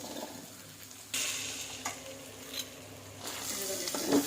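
Goat brain fry, Telangana style, is stirred in a pan with chili powder, giving a soft sizzle with scraping utensil strokes and clinks of the spoon against the pan at irregular intervals.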